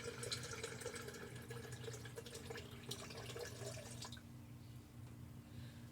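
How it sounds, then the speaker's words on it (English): Around two cups of water pour into a container while homemade pineapple vinegar is prepared, a steady splashing trickle running close and continuous for about four seconds before fading to a quieter background hum. "I'm going to start out with adding about 2 cups of water"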